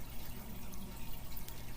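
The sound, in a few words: spiced masala water being poured into the pan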